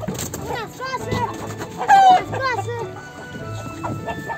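Hens cluck and squawk close by in a coop while people talk over them; one sharper squawk stands out midway.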